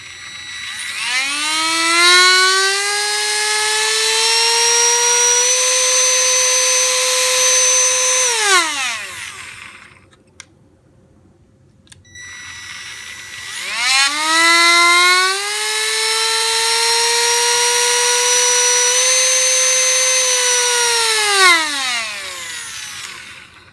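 A Milwaukee cordless rotary tool runs alone in two bursts. Each time it spins up from a low whine to a steady high-pitched scream, holds, then winds down, with a short quiet gap between runs.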